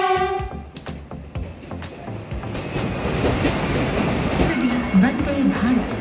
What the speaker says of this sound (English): I myself am boarding this train from Dadar station.